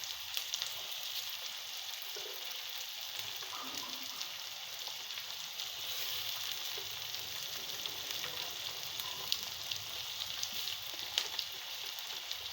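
Chopped onions sizzle in hot oil for egg pulusu, a soft, steady crackle and hiss that carries on without a break and stays fairly quiet.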